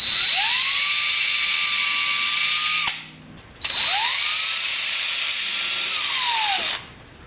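A power drill drives screws and anchors into a wall in two sustained, high-pitched whining bursts. Each burst runs about three seconds, separated by a short pause, and the drill sounds loud and close.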